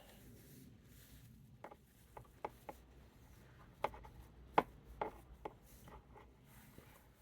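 Scattered sharp snips and clicks from cutting a root off a Chinese elm bonsai, with irregular close taps and scraping against a quiet background.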